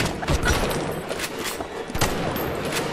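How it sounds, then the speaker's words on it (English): Shotgun blasts in the first-person shooter BioShock, several loud booming shots in quick succession amid dense game combat noise. "I fucking love the shotgun. Shotgun's great."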